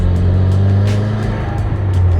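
A 2015-or-later Subaru WRX engine with a GrimmSpeed aftermarket intake hums steadily with a throaty intake note, rising slightly in pitch as it revs, close and fairly loud.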